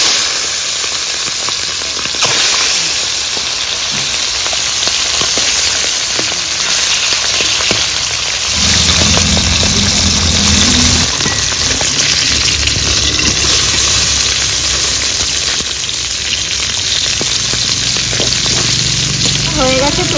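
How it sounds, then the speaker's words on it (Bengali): Tangra fish sizzling and spitting in hot oil in a home kitchen, a steady loud crackling hiss that swells and deepens partway through, with faint voices in the background. "এবার তেলে মাছ ছেড়ে দেবো।"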